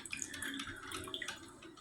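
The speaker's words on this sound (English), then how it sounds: "for every droplet of water that comes down through the filter" Navy coffee brews as water drips through a filter packed with muddy grounds, giving soft irregular wet drips and trickles close by, quiet and without talk.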